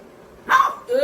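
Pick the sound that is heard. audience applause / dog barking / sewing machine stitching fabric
dog barking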